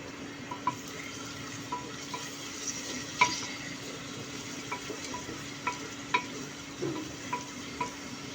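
Onions, bay leaves and green chilies fry in hot oil in a pan for Bangladeshi beef paya, a steady soft sizzle broken by light stirring clicks and scrapes, close and continuous without speech.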